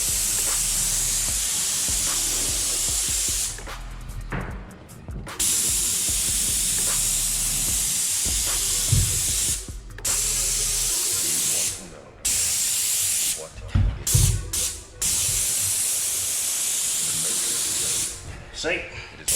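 Bursts of loud, broadband spray hiss from a paint sprayer spraying skirting boards, repeatedly starting and stopping, with brief gaps and some talking in between.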